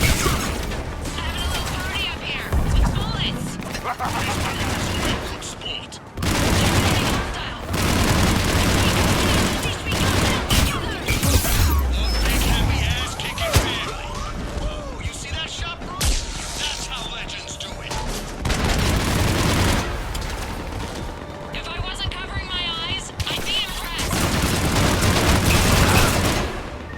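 Heavy firefight in Mass Effect 3, with rapid overlapping bursts of automatic gunfire and booming impacts running nearly nonstop, loud and close, while voices shout over the shooting throughout.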